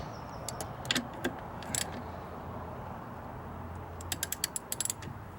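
A wrench ratchets and clicks against a stuck master cylinder fitting on a Bullnose Ford F350 project truck, with scattered metallic clicks and a steady mechanical hum beneath, close up.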